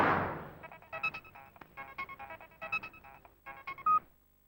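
Telephone keypad dialing tones ring out in a film scene as a number is dialed. A quick, uneven series of short beeps follows a soft opening thump, ending on one slightly longer tone.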